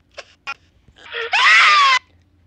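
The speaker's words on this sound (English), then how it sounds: "What was that scream?" A short, high-pitched scream rises sharply and trails off, preceded by a couple of brief squeaky cries and whimpers, all loud and close.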